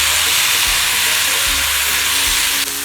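Tomatoes and chili hit a hot pan for malai kofta, where cashew nuts and onions are already frying, setting off a loud, steady hiss that holds for a few seconds before easing slightly near the end.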